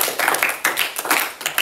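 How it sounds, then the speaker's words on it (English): A small audience at an orientation meeting applauds the teachers with a short, somewhat uneven round of clapping, moderately loud and close, with no talking over it. "Let's give a round of applause for our teachers"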